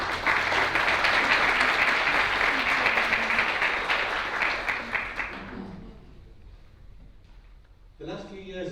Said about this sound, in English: I think maybe another round of applause just to say